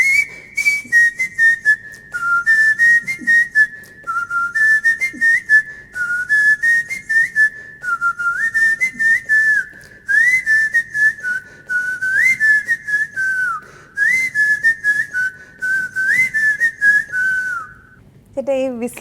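A whistler performs a Hindi song, a clear, bright melody in quick, lilting phrases with short breaths between them, carrying on alone and close for nearly twenty seconds before stopping.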